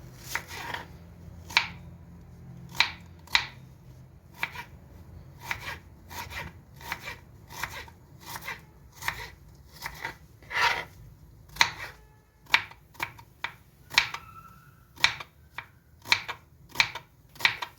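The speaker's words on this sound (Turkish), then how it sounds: "Soğanı küçük küçük doğramıyoruz bu yemekte." Steady rhythmic knife chops through onions on a cutting board, crisp and close, repeating about once a second with a few quicker strokes; no voices.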